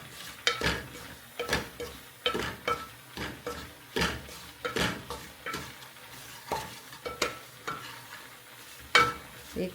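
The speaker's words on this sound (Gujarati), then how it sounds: "એક ગેસ પર આપણે રવો શેકવાનું કામ છે" Semolina (sooji rava) dry-roasted in a pan on a gas stove, stirred in a steady rhythm of repeated scraping strokes, roughly one every half second, over a faint background sizzle with no talk.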